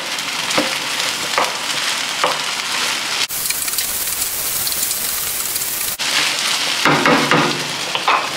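Korean beef tapa being stirred and fried with kimchi in a hot pan, giving a steady broadband sizzle with scraping stir strokes, broken by two brief pauses.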